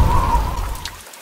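Steady rain falls close by, a dense hiss of drops that continues on its own and fades slightly toward the end.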